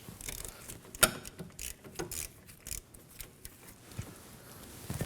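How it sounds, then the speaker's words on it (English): Ratchet on a 14mm socket loosening rear brake caliper bolts on a 2016-2020 Kia Sorento 2.4L, a close series of quick clicking ratchet strokes with metallic clunks, one sharp crack as a bolt breaks loose. "Using a 14mm socket, we're gonna remove the caliper bolts."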